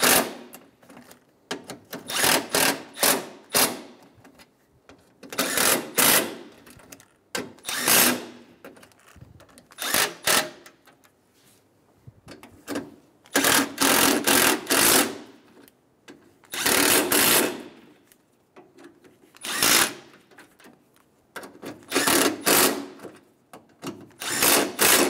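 A power tool snugs down the bolts on the AC condenser cooling fan of a 2003-2008 Honda Pilot, running in repeated short whirring bursts separated by pauses, loud and close with no talking.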